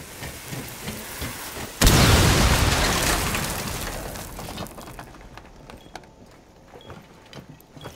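A loud breaching explosion in Rainbow Six Siege on the Chalet map bursts suddenly, with a heavy broadband blast that rumbles and decays over several seconds, debris and crackle trailing off behind.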